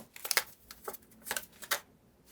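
Tarot cards shuffled and drawn on a table, a few quick papery riffles and flicks in irregular bursts, close and fairly quiet with no talking.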